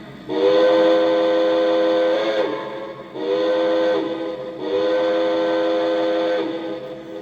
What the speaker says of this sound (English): First up, here's the whistle.